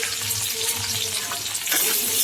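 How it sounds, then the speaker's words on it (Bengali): Potatoes frying in oil with a little salt and turmeric, a steady close sizzle with faint stirring scrapes, no talk. "ওই তেলে করে আলুগুলোকে লাল লাল করে ভেজে নেব।"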